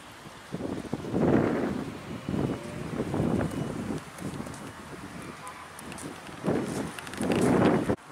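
Gusty wind buffets the microphone in repeated low rumbling bursts in a park in the Caucasus, rising and falling over several seconds.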